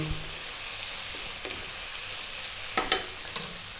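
Fresh red chili stir-fried in a hot wok for Thai chicken fried rice, a steady low sizzle running throughout with a few sharp scraping clinks of a utensil against the pan near the end.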